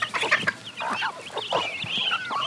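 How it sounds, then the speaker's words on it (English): Agon chickens, a local Philippine breed, cluck and squawk in a lively overlapping chorus of short, choppy calls with a few higher drawn-out cries, close by and continuous. "Here we have a local chicken breed called Agon."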